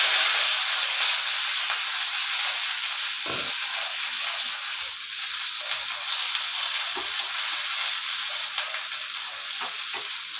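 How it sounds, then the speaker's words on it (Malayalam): Green chillies, ginger and spices crackle and sizzle in hot oil for tempering, a constant frying hiss with occasional sharp pops, close and fairly loud. "ഞാനൊന്ന് താളിക്കാനാണ് നോക്കി"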